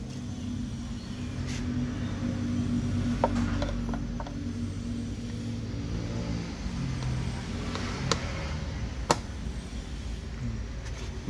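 Ratchet clicks and mechanical rubbing from tightening two bolts on an automatic car transmission, a steady close low rumble with a few sharp ticks, no talking.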